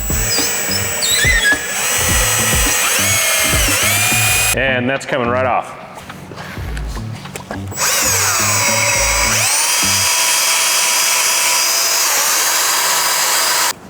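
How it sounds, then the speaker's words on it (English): A power drill with a buffing wheel whines loudly against a car's painted surface in long stretches, polishing out a scratch, pausing briefly while a person speaks, then whirring again. "a little buffing wheel to put into your drill"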